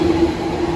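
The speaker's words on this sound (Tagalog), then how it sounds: "Lakas ng train, no?" A train rumbles past on a snowy night in Tokyo, a loud, steady low roar heard close by with no talk.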